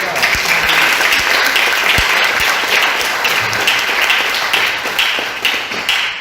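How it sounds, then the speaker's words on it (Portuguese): A church congregation applauds, with loud, dense and sustained clapping from a large crowd filling the room and a few voices mixed in underneath. "Você pode aplaudir o Senhor?"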